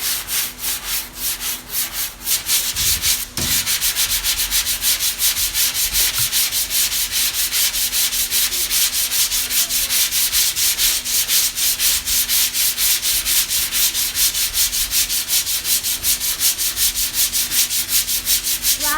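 Continuous rhythmic scraping of a sanding block rubbed back and forth over a guide-coated car body panel, fast and even strokes, close and loud.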